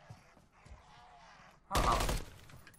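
A sudden loud burst of gunfire from Modern Warfare III Zombies in Urzikstan cuts in after a stretch of quieter game sound and voices, lasting about half a second before fading.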